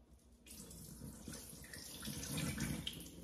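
Rice rinse water poured out of a pot into a sink, a steady gushing splash of running water, close and fairly loud with no talking.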